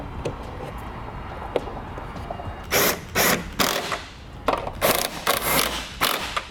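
Hand tools reinstall a trailer tail light during a Curt powered tail light converter fitting, giving a run of short, close mechanical bursts of ratcheting and whirring with brief pauses between them.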